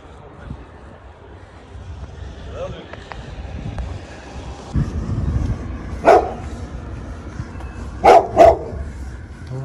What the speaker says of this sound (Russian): Песик, не лай.